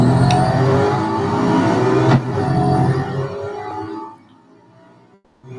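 Race car engine in the Real Racing 3 mobile racing game, on a circuit under automatic acceleration, droning loud and steady with revving, then dropping away near the end.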